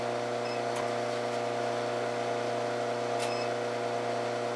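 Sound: induction heater heating small steel stock

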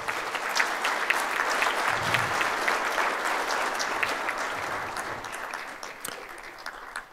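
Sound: convocation audience applauding

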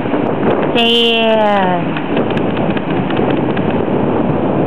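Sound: wind blowing on the Oregon coast beach

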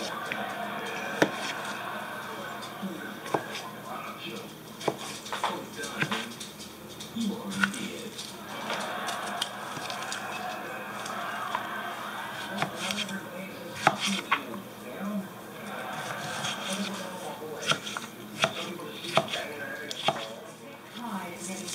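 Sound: chopping cucumbers with a knife

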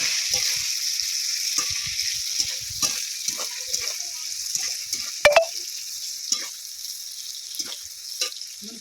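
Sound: onions frying in oil

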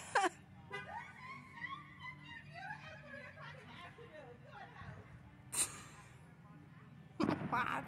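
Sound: dog whining

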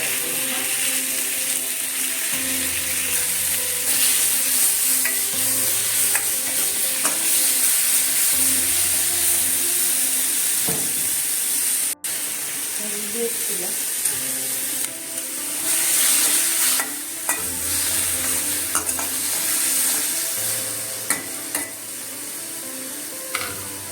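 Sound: tomato sautéing and being stirred in a pan

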